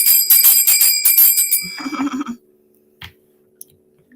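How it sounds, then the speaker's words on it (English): A bell rings with bright, sustained metallic tones over several rapid strikes, loud and close, then fades out, followed by quiet with a few faint knocks. "Let me give you the big bell."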